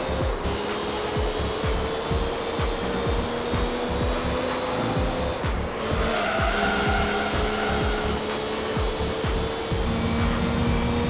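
Race cars roar through a Gran Turismo 3 race, steady engine drone with rising and falling gear pitch, shifts around the middle and brief tire squeal, loud and continuous with no talk.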